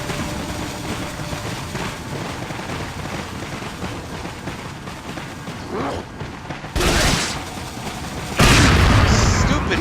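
Grenade blasts in Resident Evil 4, with two sudden loud booms late on, the second heaviest, following a stretch of murky game noise and combat sounds.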